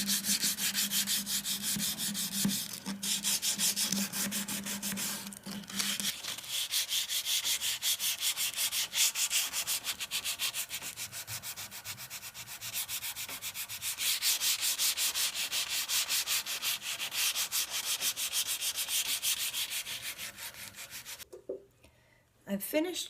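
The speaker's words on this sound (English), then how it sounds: "I'm going to do a little bit by hand here" Continuous raspy scrubbing of sandpaper rubbed by hand over wood, steady back-and-forth strokes, close and fairly quiet, with a brief pause near the end.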